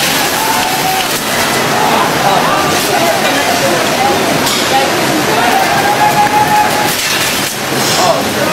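Tsunami floodwater from the 2004 Indian Ocean disaster surges into a coastal hotel, a loud continuous roaring rush of water with crashing debris, while excited voices shout over it.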